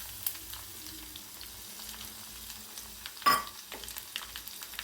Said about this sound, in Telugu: ఇలా కచ్చపక్క దంచుకున్న వెల్లుల్లిపాయలు వేయాలి.